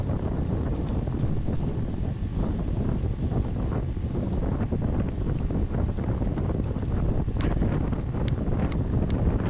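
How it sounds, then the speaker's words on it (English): Strong headwind buffets the microphone along the back straight of a cycling race course, a loud, continuous low roar with gusty rumble and faint rattles, no speech. "on the day this was into the wind, as you might be able to hear. There was quite a decent wind."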